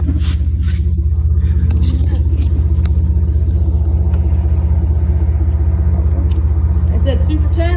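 Chevy Blazer with a 4.3 liter V6 and Flowmaster Super 10 mufflers with dual four-inch tips idling steadily, a low continuous exhaust rumble close by, with someone talking over it throughout.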